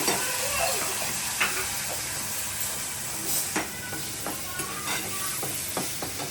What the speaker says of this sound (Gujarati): તેલ ગરમ થઈ ગયું છે. હવે આપણે આમાં છે ને પાલકની ગ્રેવી એડ કરી દઈશું.